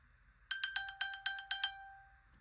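An iPhone chirping as it is pinged from an Apple Watch: a quick series of about eight bright, bell-like electronic beeps in a steady rhythm, close and clear over a quiet room, then a fading tail.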